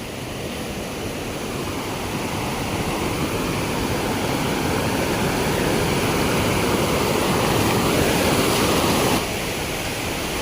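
Continuous rushing water of a forest stream, a broad steady roar like water pouring over rocks, loud and close with no voices.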